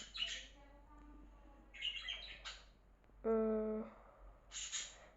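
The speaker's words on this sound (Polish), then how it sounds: "sorry za te odgłosy w tle, jak słyszycie papugi czy coś" Shrill bird calls and squawks, like parrots, sound intermittently in the background with a few sharp, harmonic cries.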